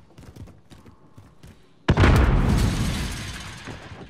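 A frag grenade detonates in Call of Duty, a sudden heavy boom that rolls out and slowly decays after a stretch of quieter in-game noise.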